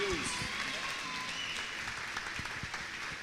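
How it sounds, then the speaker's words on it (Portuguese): A church congregation claps steadily throughout, with voices calling out over the applause. "uma salva de palmas"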